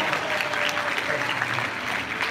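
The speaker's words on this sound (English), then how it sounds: "Let's give them another round of applause for our great volunteers." A crowd at LA Cookie Con claps for the event's volunteers, a dense, steady round of applause close by, with a voice or two faintly mixed in.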